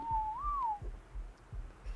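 A single short melodic whistle in the ARK video game, rising then falling in pitch, clear and close, followed by faint low thumps and quiet background.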